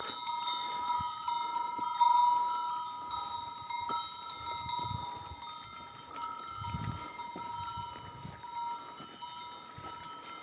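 Small bells clink and jingle irregularly from a flock of pregnant sheep moving about outdoors in light rain, with occasional soft bleats and muffled shuffling in the background.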